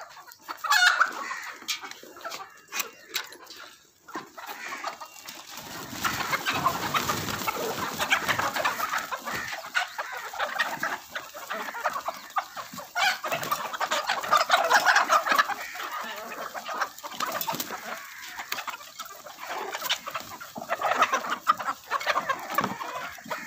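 Chickens cluck steadily in a busy coop, with overlapping calls from several birds and an occasional distant rooster crow, no talking.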